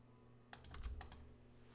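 Keys on a computer keyboard tapped in a short run of a few quick clicks during AutoCAD drafting work, faint and close, with a low steady hum underneath.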